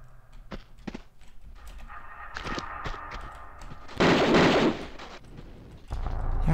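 Enemy gunfire in Tomb Raider II comes as sharp, repeated game shots, with a loud burst of blasts in the middle and another volley near the end.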